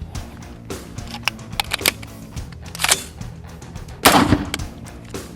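A Dark Storm Industries Variant 1 rifle with a muzzle brake fires a string of sharp, irregularly spaced shots outdoors, one much louder blast near the end, with faint background noise between reports.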